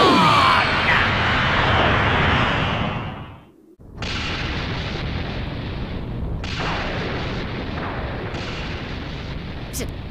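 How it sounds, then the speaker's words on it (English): A huge explosion in the Dragon Ball anime with Frieza, a loud, sustained roaring blast that briefly drops away and then surges again as continuous rumbling. "You were afraid of being caught in the explosion."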